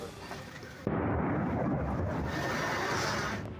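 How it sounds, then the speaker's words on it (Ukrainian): A sudden heavy boom of wartime explosions near Kostiantynivka, Ukraine, rolls into a long, deep rumble that fills several seconds, muffled and far-off-sounding, with no voices. "Повітря навколо гримить від вибухів."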